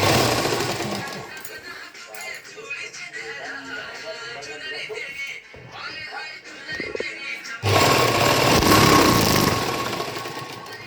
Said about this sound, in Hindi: ऐसे रख के हम इसकी नीचे से बाजू तक की सिलाई करेंगे